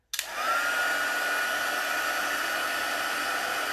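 A heat tool blows steadily to melt embossing powder on a stamped Easter card, clicking on and then holding a loud, even whoosh with a faint whine, close up and with no talking.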